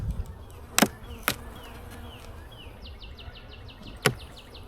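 Crowds of honey bees hum around an open beehive full of honey frames during an early spring inspection, a steady close buzz broken by a few sharp clicks and knocks, with faint bird chirps in the background.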